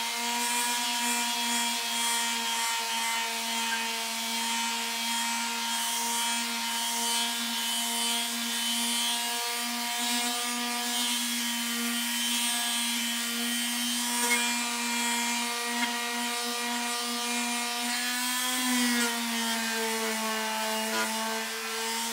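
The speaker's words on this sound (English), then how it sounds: "So I grabbed a 100 grit sandpaper on this palm sander, this electric sander." An electric palm sander with 100 grit sandpaper works over a Weber Q grill lid, a steady, loud motor whine with a constant buzzing tone and a slight pitch dip near the end, running alone without talk.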